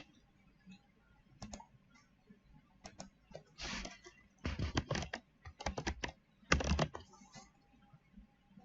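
Quiet bursts of typing on a computer keyboard while a search term goes into a game launcher's marketplace, clusters of close clicks separated by short pauses, with no one talking.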